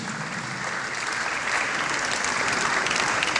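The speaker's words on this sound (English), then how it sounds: "Please, let's put our hands together for Kashifu Inowa Abdullahi as he takes the stage." Dense, sustained clapping from a tech festival audience as a speaker takes the stage, a continuous wash of many hands that grows slightly louder midway, with no talking over it.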